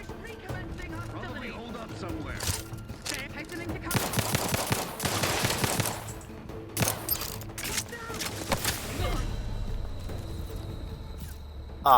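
Gunfire in the video game The Outer Worlds 2, with bursts of automatic fire and scattered single shots, some loud and close and others lighter, mixed with game sounds and someone talking.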